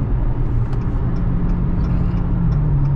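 Dodge Challenger 392 driving through a tunnel, its engine a loud, steady low rumble with a continuous roar echoing around it throughout.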